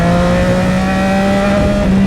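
A Yamaha R9 motorcycle engine is held at full throttle in a loud, sustained high-revving wail with steady harmonic tones, heard close and continuous throughout.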